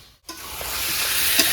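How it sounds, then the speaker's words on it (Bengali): Chicken and potatoes sauté in a pan, a steady hissing sizzle that starts abruptly after a brief silence and builds slightly, with a faint stir or clink near the end. "2 মিনিট আলুগুলো কষিয়ে একসঙ্গে দেবো সামনে।"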